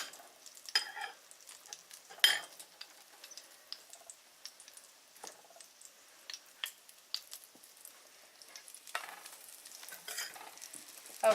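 Breaded green tomato slices fry in a frying pan with a soft, continuous sizzle and crackle, punctuated by occasional faint scrapes and clinks of utensils.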